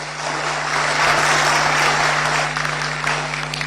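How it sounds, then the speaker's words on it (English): Audience applause rises in a room after a talk, a loud, even wash of clapping that holds steady and then thins slightly toward the end, with a constant low hum underneath. "Let's clap one more time for him."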